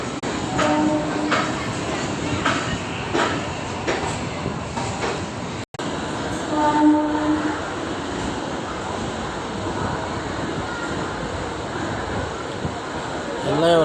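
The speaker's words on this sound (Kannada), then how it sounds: "ಪ್ಲಾಟ್ಫಾರ್ಮ್ 1ಕ್ಕೆ ಬಂದಿದೆ ಇವಾಗ ಟ್ರೈನು" Passenger train pulling in at platform 1 of a crowded station, a steady rumbling roll with faint rhythmic clatter under a continuous wash of noise, while people talk nearby.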